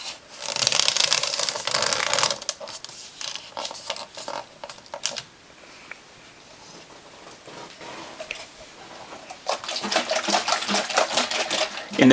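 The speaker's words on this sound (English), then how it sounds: "In the random shake test, we can see the tea spilling out of the hole in the white lid." Tea sloshes and splashes as a cup with a white spill-resistant lid is shaken at random, with bursts of rough liquid and rubbing noise broken by quieter pauses, no voices.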